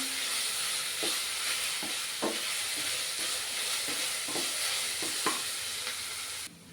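Sliced onions and green chillies fry for prawn roast, giving a steady close sizzle broken by occasional scrapes and taps of a stirring spoon.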